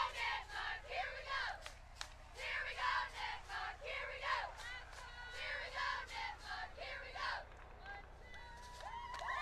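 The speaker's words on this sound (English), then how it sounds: "That was the Here We Go Nipmunks cheer" Cheerleaders at a Dover-Sherborn vs. Nipmuc high school football game chant a cheer, a group of voices shouting in a rhythmic, pulsing pattern over a steady low hum and crowd noise.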